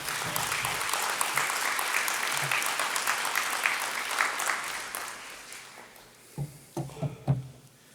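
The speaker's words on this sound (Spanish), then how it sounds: "Un aplauso, por favor." An audience at a Peruvian bicentennial conference welcomes an architect speaker with full, steady applause that fades out near the end, followed by a few close handling sounds and brief talk.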